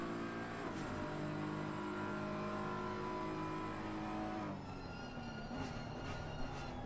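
GT3 race cars including a Porsche scream along in a sim racing game, a steady engine whine that shifts down in pitch midway as another car closes in, fairly quiet and without voices.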